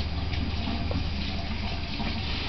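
Hot water runs steadily from a faucet to fill a baby's bath, a constant close-up rushing splash with no break.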